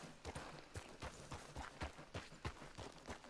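Horse hooves clip-clop in a steady, rhythmic gait during an online video game, the evenly spaced beats fairly loud and close with no talk over them.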